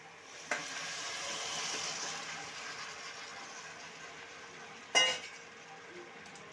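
Steady frying sizzle as goat meat hits hot spiced oil, with a sharp clatter at the start and another loud scrape near the end.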